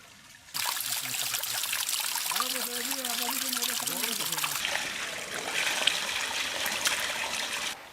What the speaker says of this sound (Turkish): bismillah suyumuz akmaya başladı